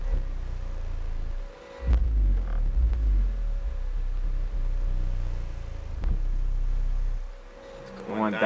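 Deep bass tones throb and rumble from a Boss Audio AR2500M car amplifier driving a speaker on a dyno test bench, loud low pulses with brief dips and a faint steady hum.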